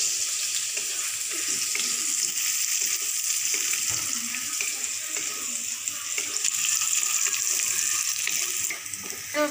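Chopped onion hisses and sizzles steadily in a pan of hot oil after bay leaves go in, a close, continuous crackle with occasional stirring.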